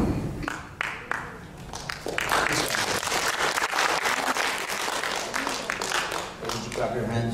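An audience claps through a presentation, steady applause running the whole time with a voice speaking over the clapping.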